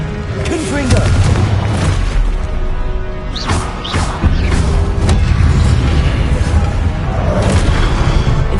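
Repeated Confringo spell explosions in Hogwarts Legacy on PS5, loud deep booms and crashing impacts packed closely together with a constant rumbling bed and occasional sharper cracks.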